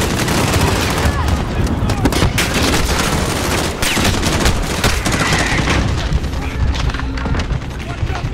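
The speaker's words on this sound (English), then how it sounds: "We gotta do something about that mortar! It's gonna tear us all to shreds!" Mortar fire in Call of Duty: Modern Warfare (2019), Embassy mission: loud booms over a steady rattle of gunfire and machine-gun bursts, with shouting voices mixed into the chaotic battle.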